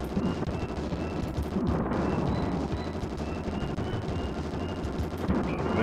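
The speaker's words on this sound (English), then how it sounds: "Shoot with a bunch of missiles." Missiles fired and exploding in the SNES light-gun shooter Bazooka Blitzkrieg, heard as a steady, dense barrage of low, crunchy retro blasts and rumbling booms that runs without a break, with no voices over it.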